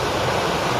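Water gushes from the breached left bank canal of the Tungabhadra, a steady loud broadband rush close by, with no voices.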